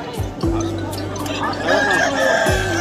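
A chicken at a poultry market gives clucks and squawks, while rooster-like calls and other birds sound nearby over busy background chatter and market noise.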